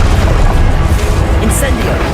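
Confringo blast spell in the Hogwarts Legacy video game, a loud booming burst over dense, rumbling combat noise with a brief bright crackle partway through.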